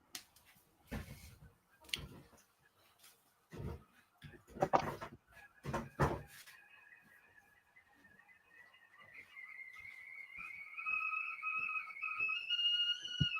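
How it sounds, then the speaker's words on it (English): A thin, wavering whistle rises and holds for several seconds after a series of sharp knocks and clatters, moderately faint in a quiet room. "I hear that whistle."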